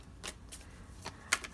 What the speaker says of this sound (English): So I'm just going to draw some cards here.